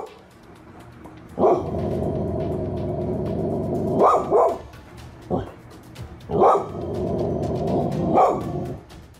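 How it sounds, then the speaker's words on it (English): A dog growls and barks indoors, giving a low, sustained growl broken by about six sharp barks at irregular intervals, close and loud. "She starts growling and barking more as she gazes upwards."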